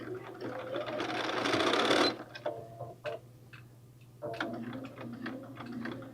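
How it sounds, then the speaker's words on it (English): Sewing machine stitching while making a bag, a close whirring burst of rapid needle strokes, then short stop-start runs and clicks as the fabric is adjusted, no talk. "So I'm going to back stitch, I think"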